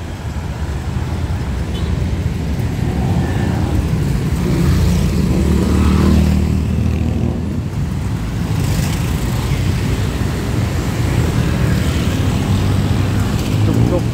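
Busy street traffic with taxis near Platinum Market in Bangkok, Thailand, forms a steady loud roar of engines and passing vehicles, with no break across the whole stretch.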